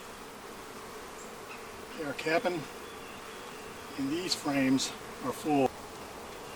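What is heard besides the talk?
honey bees buzzing around Flow Hive frames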